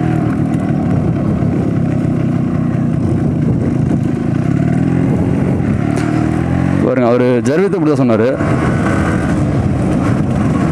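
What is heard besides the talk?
two-stroke motorcycle engine revving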